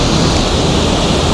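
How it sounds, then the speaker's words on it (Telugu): A rushing Himalayan waterfall on the Kedarnath trek in monsoon rain gives a loud, steady, close roar of falling water, unbroken and heard on its own. "ఇప్పుడు దాకా మనం చూసిన వాటర్ ఫాల్స్లో ఇదే హైయెస్ట్."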